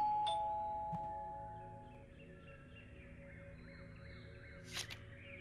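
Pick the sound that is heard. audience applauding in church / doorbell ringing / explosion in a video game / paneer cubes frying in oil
doorbell ringing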